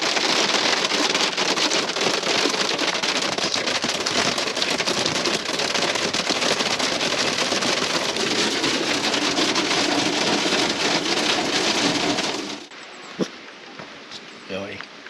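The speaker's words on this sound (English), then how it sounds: "Pretty nice hailstorm." Hail pounding the ground at a mountain campsite near Silverton, a loud, dense, continuous clatter of pelting stones that stops abruptly near the end, leaving a few scattered hits and quieter background.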